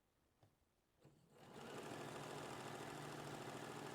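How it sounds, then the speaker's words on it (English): A sewing machine stitches a seam on a tiered skirt, starting with a few faint clicks and then rising into a steady, loud, rapid mechanical whir that runs on alone without talk. "Lock in your stitches at the beginning and the end"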